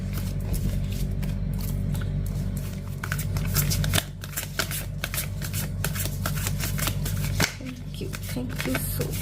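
Tarot cards shuffled and drawn by hand in a steady, close riffling patter with brief pauses, a voice talking over the card sounds.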